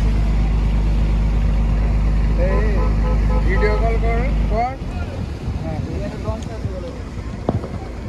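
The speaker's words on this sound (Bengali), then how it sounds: "প্রচুর বোট আর লঞ্চ আছে আজ।" Boats and launches at the Pakhiralay ferry ghat in the Sundarbans, with a loud low engine drone that cuts off partway, followed by voices talking and wind buffeting the microphone.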